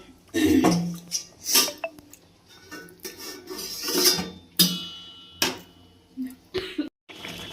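Clattering and clanking of a metal lid and pan as a cooking pot is covered, with several sharp close knocks and scrapes spread across the moment amid quiet kitchen sounds.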